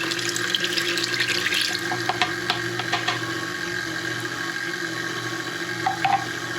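Milk pours into a bread pudding mixture of cream and pumpkin, a close, continuous liquid splash with a few small clinks.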